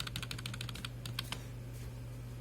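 Quick run of crisp computer keyboard keystrokes entering Excel shortcuts, close and clear over a steady low hum, then the tapping stops and only the hum remains.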